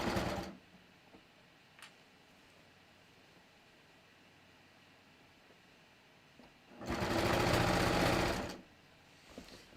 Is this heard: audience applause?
no